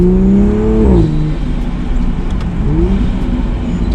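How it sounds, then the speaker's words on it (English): A Toyota Supra in non-sport mode makes a small acceleration: a loud engine note rises in pitch for about a second, dips, then climbs again more gently. No talking is heard. "So non-sport mode, we'll do a small acceleration."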